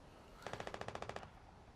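A rapid burst of automatic gunfire in Fortnite, around a dozen sharp shots fired in under a second, loud and close, followed by quiet.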